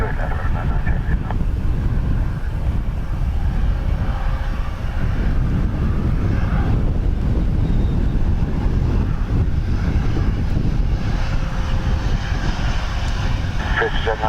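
A jet aircraft roars steadily as it lands on runway 28 left at Dublin Airport in crosswinds, a loud continuous low rumble with wind buffeting the microphone throughout.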